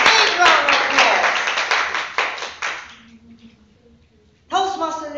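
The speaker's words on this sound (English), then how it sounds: "Please give him a big round of applause." Clapping from the audience at a Toastmasters club meeting, a close burst of hand claps that tapers off over about three seconds, followed by a quiet gap before a voice starts talking.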